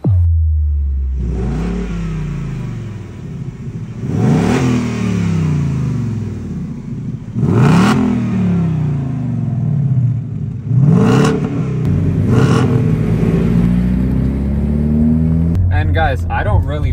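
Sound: tuned Hyundai Elantra N racing a Mustang GT

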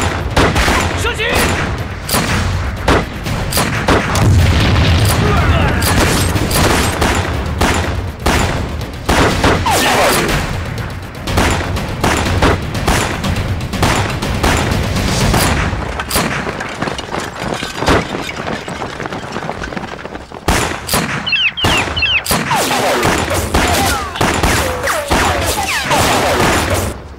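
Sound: gunfire from soldiers ordered to shoot, in a movie

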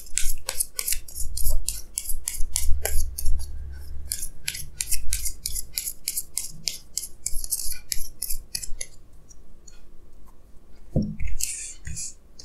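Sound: tarot cards being drawn and handled

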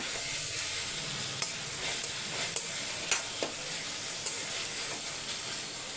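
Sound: onions sautéing in a pan

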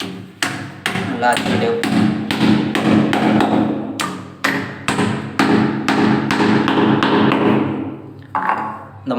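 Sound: hammering wooden anchor into floor

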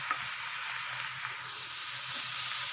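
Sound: cauliflower, potato and capsicum sabzi frying on high flame

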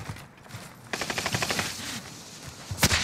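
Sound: machine gun fire in Call of Duty video game

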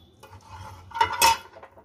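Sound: ghee added to a pan for tempering chickpea chaat

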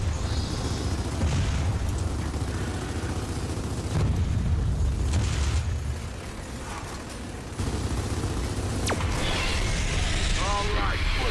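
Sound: gunfire at the core in Gears of War 4 video game

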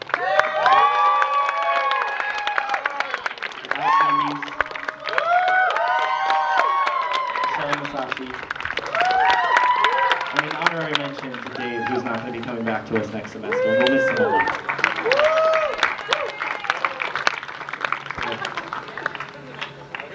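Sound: audience applause for graduating seniors

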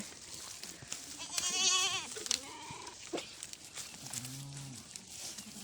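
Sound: sheep bleating

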